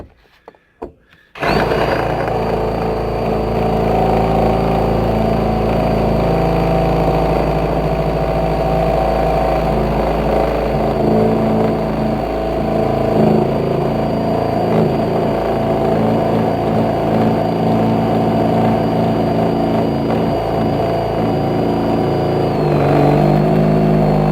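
A drill bit cutting through a nail at very high RPM while a gas line is being installed, starting abruptly after a few quiet knocks and holding a loud, steady, whining grind for over twenty seconds.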